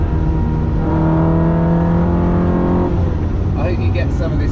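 A remapped Ferrari 360 Modena engine revs hard, its rising, layered drone holding loud and close for about three seconds before easing, while a person talks over it throughout.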